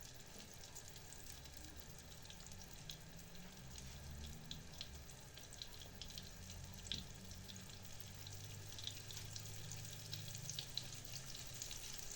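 Steady, quiet sizzling of meat cutlets frying in a pan until golden, a continuous crackle with faint clinks, no talking.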